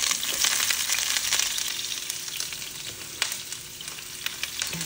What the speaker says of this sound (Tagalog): Kailangan pa-brownie natin yung bawang. So guys, sunod na natin yung sibuyas.